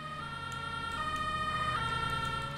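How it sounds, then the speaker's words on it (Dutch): A steady electronic ambulance siren in the game Emergency Hamburg wails with a held tone and harmonics over low engine rumble, continuous and fairly loud throughout. "Waarom heb je een ambulance sirena, meneer?"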